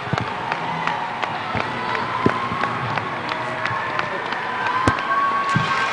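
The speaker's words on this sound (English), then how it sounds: "please join us in a round of applause for all our seniors" Crowd in a high school gym applauding the seniors on senior night at a girls' and boys' basketball game, a steady roar of clapping and cheering with scattered sharp claps and shouts throughout.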